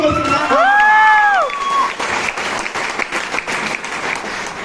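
An audience of about 200 people at a business motivational talk breaks into loud, sustained clapping, with a whistle or electronic whoop sliding over it at first, then the applause thins and tapers off.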